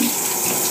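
Shower water runs in a steady, loud, continuous hiss of spray with no break.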